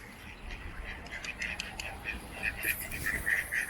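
Ducks quack repeatedly at a campsite by a camper van, their calls growing busier and louder toward the end, mixed with other birds and faint voices in the background.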